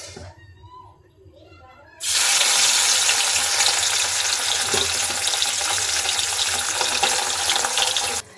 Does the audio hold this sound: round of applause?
no